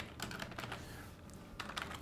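Typing on a computer keyboard while filling in a name field, with quick irregular bursts of soft key clicks and a short pause midway, close and fairly quiet, with no talking.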